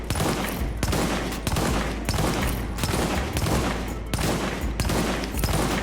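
An M1A rifle in The Division video game fires a loud, rapid string of close shots, with sharp reports repeating at a steady, quick pace throughout.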